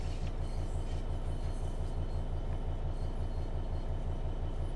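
A Class 66 diesel freight train runs on a snowy Bletchley to Willesden Junction route in Train Sim World 5, giving a steady, loud low engine rumble with a throbbing drone that holds throughout, no talking.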